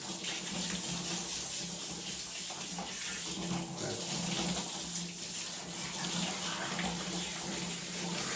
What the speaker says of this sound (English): make sure you rinse really well on the back side, just so that there's no soap